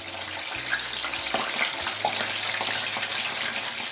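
Fish fries in oil in a cooking pot for a Senegalese thieboudienne, a close sizzle with a few soft clinks and bumps of the pot over a few seconds.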